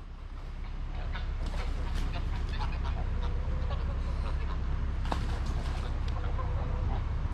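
A flock of about thirty geese by the River Thames honks and calls in scattered bursts over constant outdoor background noise, fairly close and moderately loud.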